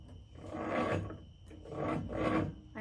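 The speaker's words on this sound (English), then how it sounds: "Even the yarn winder sounds like it's hurting." A hand-cranked yarn ball winder turns with a rhythmic, raspy scraping that swells and fades with each rotation, a strained grinding repeated about three times, close up and with no talking.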